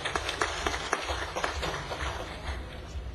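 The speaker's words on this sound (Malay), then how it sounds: "tepuk tangan untuk beliau." Audience at an Islamic religious gathering clapping for an invited cleric, a modest round of hand claps with a busy crowd din underneath.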